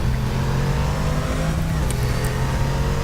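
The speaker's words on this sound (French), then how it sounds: "Il sort du virage en ce moment même, dans sa petite Ferrari rouge." A red Ferrari race car in Assetto Corsa drives out of a corner, its engine a loud, steady drone with a sustained pitch that shifts slightly as it pulls away.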